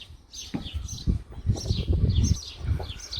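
Birds chirp and sing in bursts of high, bright calls over a low outdoor rumble in a sunny garden in Leven, Scotland, moderately near, with no talking.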